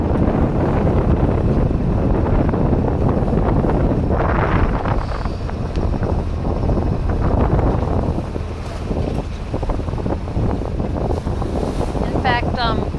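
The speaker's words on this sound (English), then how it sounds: "The winds have quieted down 15 to 20 knots, and from the south." Wind blowing over a sailboat at 15 to 20 knots from the south, a loud continuous buffeting rush with microphone wind noise and water wash, near and steady, with no talking.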